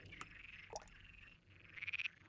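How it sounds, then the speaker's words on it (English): A few quiet, rapid croaks from a frog, ending in a short pulsing trill, with faint background hiss. "This frog can be heard in a more normal acoustic band."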